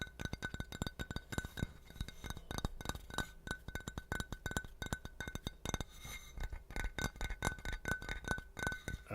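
Small porcelain or glass object clinking repeatedly in quick, irregular taps, bright and close, with no one speaking.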